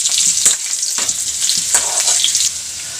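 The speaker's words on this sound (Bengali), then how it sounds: "আমি একটু সাইড করে একটু জিরে আর একটু তেজপাতা ফোড়ন দিয়ে দিলাম।" Cumin seeds and bay leaf temper in hot oil, giving a bright, crackling sizzle close by with a few sharper pops and spoon scrapes scattered through it.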